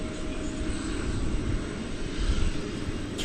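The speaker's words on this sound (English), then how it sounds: "Got a plane coming over the bridge there. That's American Flight 1796, which is headed off to Phoenix." An American Airlines Airbus A321 passes over a bridge at Dallas/Fort Worth, its engines making a steady low rumble that holds level throughout, moderately close, with no voices.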